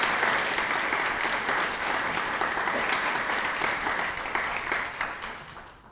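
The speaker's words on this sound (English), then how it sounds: "Let's give her another round of applause" An audience at a fall speaker program claps for a speaker, a dense steady round of applause at moderate distance that thins slightly toward the end, with no voices over it.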